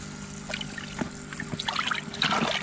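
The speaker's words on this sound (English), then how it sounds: "The small debris, just pumping it out inside the water garden." Water trickles and splashes steadily as a pond pump pushes debris-laden water out of a filter in a garden water feature, with soft gurgling and pouring close by and no speech.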